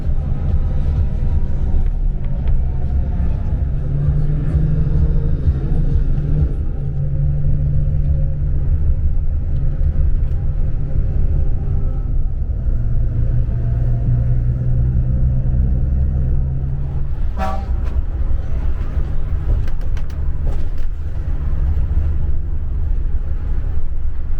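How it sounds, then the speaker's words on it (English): Heavy road traffic on an Iranian highway heading toward Ramsar, with a loud continuous low rumble of car engines and tyres heard close from inside or beside a vehicle, with shifting engine tones and a brief sharper noise near the end. "It's a very heavy traffic."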